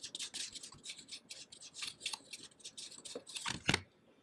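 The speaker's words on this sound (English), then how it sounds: "And I'm just simply going to take my dauber and ink right over that." An ink dauber is rubbed over paper cutouts in a papercraft project, giving a run of soft, close scratchy rubbing strokes in quick irregular bursts, faint and with no talking.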